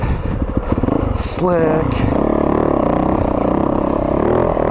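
Yamaha YZ450FX dirt bike engine running on a soft throttle map, a steady mid-pitched drone with one quick rising rev, heard close and loud while someone briefly talks over it.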